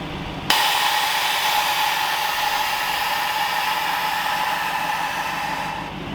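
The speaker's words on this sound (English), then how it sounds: "It sounds like we have a leak in one of the bags" Air hisses steadily from a leaking suspension air bag on a Lexus LS 430, starting abruptly and holding loud and constant for several seconds, close by, with no talking.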